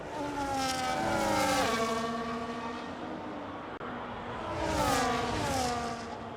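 A Haas Formula 1 race car at the Monza Grand Prix, its engine whining as it rises through gear changes, swelling, easing off, then roaring up again, loud and near, with no talking.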